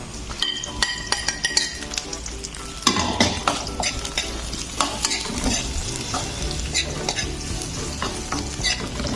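Chopped meat for kalo kalo frying in a pan, with a loud close sizzle, while a utensil stirs and scrapes it and metal clinks against the pan in irregular bursts.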